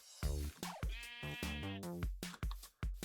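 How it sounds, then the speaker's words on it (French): Repeated sheep bleats from Minecraft, several wavering, nasal calls in close succession, loud and clear with no talk over them. "Encore un mouton."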